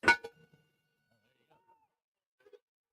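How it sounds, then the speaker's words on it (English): A bell is rung once during a game between players: a single sharp clang with a brief ringing tail opens the moment, followed by near silence with a few faint small sounds. "another player's rung the bell"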